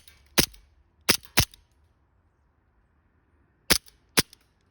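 An Elite Force 1911 airsoft pistol fires at a mailbox outdoors, five sharp, snappy cracks in two quick clusters separated by silence, close and distinct.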